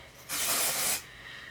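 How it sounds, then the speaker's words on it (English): Texture spray hisses onto hair in one steady burst of under a second, close and clear, with a quiet room before and after. "So I'm going to go ahead and just lift up sections and just spray"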